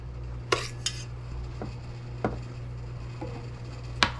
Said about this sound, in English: we're going to really stir it well